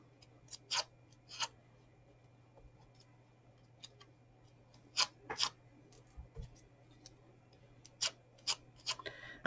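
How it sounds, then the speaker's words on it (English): Scissors curling paper leaves for a handmade flower card, heard as a quiet scattering of short dry snips and scraping rubs, some in quick pairs, over a low steady hum. "and then we're just going to curl our leaves up with scissors"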